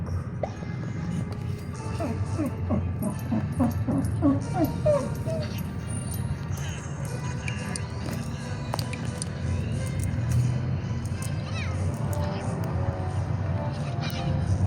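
A dog whimpers and yips in short, high whines near the start, then softer rustling and scratching continue close by.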